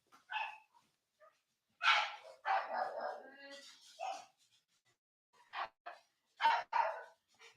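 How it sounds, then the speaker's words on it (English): A pet dog barks and yips in short excited bursts while its lead is put on before a walk, the barks close and fairly loud and separated by brief pauses. "Sorry if you can hear the dog. He's just getting his lead put on him as he's going out for a walk, and he gets a bit excited"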